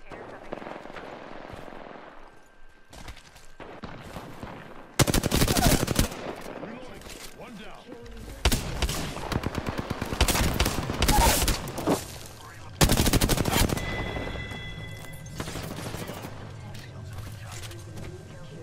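Gunfire in Apex Legends, with long rattling automatic bursts and rapid single shots coming in several loud waves that start and stop abruptly, broken by quieter gaps, with game sound effects between the bursts.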